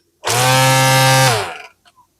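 A Worx GT Revolution 3-in-1 string trimmer starts and runs with a loud, steady high-pitched motor whine and buzzing head, then quickly winds down and stops, heard close up with no talking.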